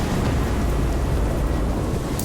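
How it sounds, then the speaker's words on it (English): Video game storm in Death Stranding, a dense, loud, steady roar of rain and wind with low rumbling thunder underneath, continuous throughout with no talking. "And there's a storm."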